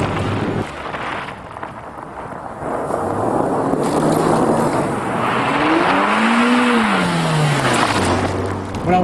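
A Mazda MX-5 Miata sports car drives past with a rising and falling engine note and a tire squeal near the end, set against road rumble, with no talking.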